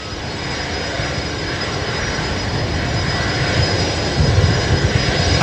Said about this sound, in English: A220 just touching down now as well